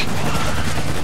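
Rapid gunfire bursts from the video game Spec Ops: The Line fill the moment, loud and dense, with overlapping shots blurring together in a continuous barrage.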